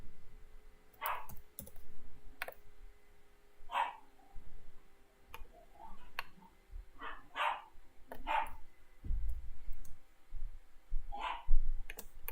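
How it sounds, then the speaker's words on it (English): Dogs bark in the room in short, separate bursts spaced a second or more apart, moderately close, mixed with keyboard clicking and light background noise. "You can probably hear my dogs."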